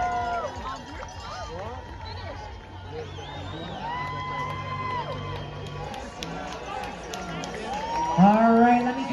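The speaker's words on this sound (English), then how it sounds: "hear that crowd out there getting nice and loud for our marathoners and our half marathoners" Spectators cheer and whoop for marathon and half marathon finishers at the Ottawa race, with a steady babble of crowd noise throughout. Near the end a sharper burst of shouting rises above it.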